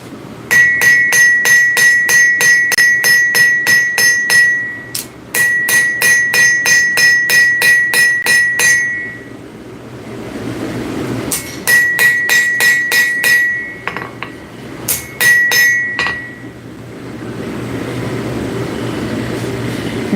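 Rapid metallic strikes from a forging hammer working metal in a workshop, loud and close, coming in quick rhythmic bursts of ringing blows separated by brief gaps of quieter shop noise.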